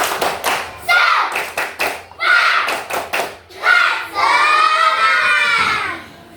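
Children in a classroom doing a rhythmic spirit clap, bursts of hand claps and shouted chants in quick patterned groups, ending in a sustained group shout, loud and close.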